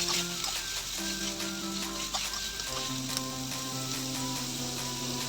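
Onion sautéing in a pan for chapati chivda, a steady soft sizzle with light stirring scrapes, faint and close, alone without talk, with some tonal background hum running throughout.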